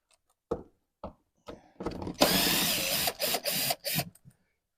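A power driver backs out T25 screws from the air box of a 2009 Chevy 2500HD with a 6.0L engine: a few faint clicks, then several short whirring bursts close by, with no talking.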